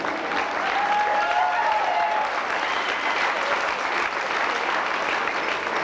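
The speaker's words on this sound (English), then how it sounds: "a decent round of applause for all the contestants in the 1992 Miss Ireland pageant" A large audience at the 1992 Miss Ireland pageant applauds the contestants, a continuous wash of clapping at even loudness with faint cheers.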